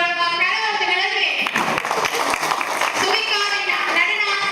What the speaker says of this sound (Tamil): திருக்கோணேஸ்வர நாட்டியாலய மாணவி சுவிகா அவர்கள் மூலமாக கரகோஷங்களை